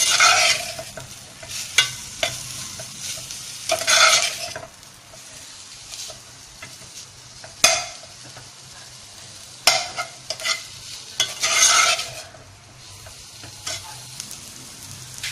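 Chicken is stir-fried in garlic and ginger paste in a pan, an ongoing sizzle punctuated by repeated scraping and clinking strokes of a spoon against the metal, close and moderately loud, with no talking.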